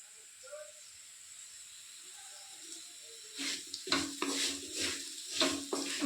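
Potato fingers sizzling and frying in oil on a stove, a steady hiss that swells louder in the second half, with stirring or pan scrapes breaking in near the end.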